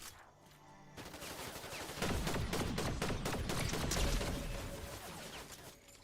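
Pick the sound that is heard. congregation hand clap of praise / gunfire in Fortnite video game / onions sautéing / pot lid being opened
gunfire in Fortnite video game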